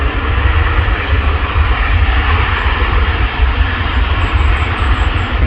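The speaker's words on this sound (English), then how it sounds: "It's a Jet 2, but it's a Boeing 737." Jet2 Boeing 737 airliner, Austrian registered, flying overhead at a viewing park, a steady broadband engine roar with strong low rumble holding loud throughout, no talk.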